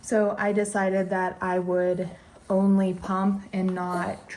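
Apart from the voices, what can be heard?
None of the usual background noises is heard.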